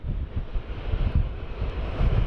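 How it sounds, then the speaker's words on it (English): Constant rumbling buffet of wind striking the microphone at Sydney Airport, loud and gusty, with a faint distant wash of water underneath. "It's pretty windy up here."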